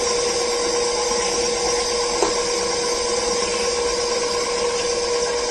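Electric stand mixer on low speed creaming butter and sugar for Earl Grey blondies, a steady whirring motor hum with a slight rattle, close and continuous with no talking.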